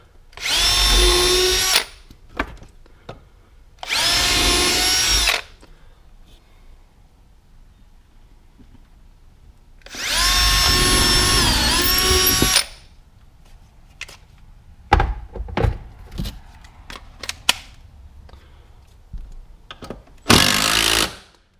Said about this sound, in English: let's drill the remaining holes here a minute